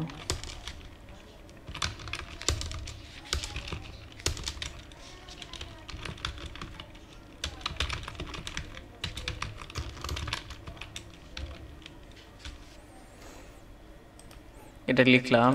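Someone types text into Photoshop on a computer keyboard, a quick irregular run of close keystrokes with brief pauses, while a person talks over it and a louder clatter comes at the end.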